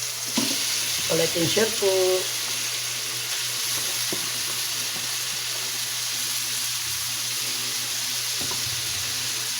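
Bitter gourd (ampalaya) sizzles and crackles steadily in a hot pan while a voice talks briefly near the start, the frying hiss continuing unbroken to the end.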